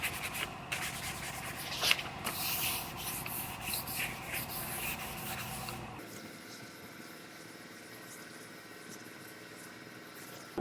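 Sandpaper on a scuff pad rubs back and forth across a car body panel in close, steady scratchy strokes during prep for paint, then stops about two-thirds through, leaving a faint background hum.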